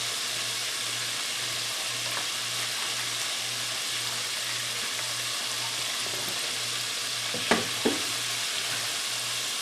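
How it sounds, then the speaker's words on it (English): Shrimp fry in hot oil in the style of Essex, Massachusetts, with a steady, even sizzle and crackle throughout and two brief louder clacks near the end; no voices. "You can watch the fry process."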